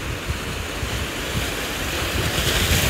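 Steady ocean surf of an incoming tide rushing in continuously, a broad roar of breaking waves with some wind noise, fairly close and loud throughout, no voices.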